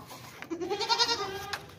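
A dairy goat for sale on a farm gives one clear, wavering bleat lasting about a second, close by and loud, with no talking.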